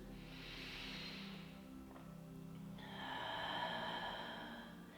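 A slow, soft breath drawn in through the nose during a relaxed stretching routine, faint and close, with a second airy inhale following after a brief pause.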